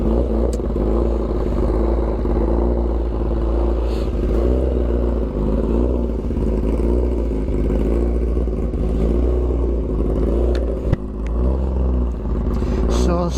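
A 10R motorcycle engine runs at idle nearby, a rhythmic throbbing putter that swells into repeated revs, with a sharp clack near the end.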